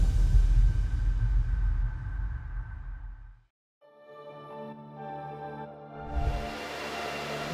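Rows of Bitcoin mining machines at a Riot Blockchain operation give a loud, steady roaring hum for a few seconds before the sound drops away, followed by a quieter, different tonal sound.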